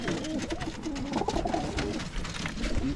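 A blue checker racing pigeon coos repeatedly at close range, a soft throaty burbling while birds are basketed for a 185 km race, with other pigeons murmuring faintly underneath.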